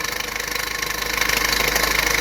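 A car engine with a faulty belt system runs steadily at close range, a continuous mid-pitched drone with a rapid knocking pulse that grows slightly louder partway through.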